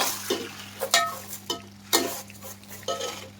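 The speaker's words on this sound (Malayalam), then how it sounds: "അപ്പോൾ ഇത് നമ്മളൊന്ന് വറുത്തെടുക്കാൻ പോവുകയാണ്" Food frying in a pan with a spoon stirring, a soft sizzle under a series of sharp scraping and clinking strokes at an irregular rhythm, close by, with a low steady hum behind.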